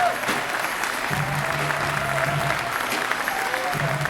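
Audience applause at the opening ceremony of the Gérardmer film festival as the jury is introduced, steady clapping from a seated crowd in a hall, moderately loud, with some faint voices underneath.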